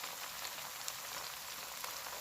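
Ginger and garlic paste fries in a hot pan, a dense steady sizzling hiss with faint crackles, close and continuous with no talking.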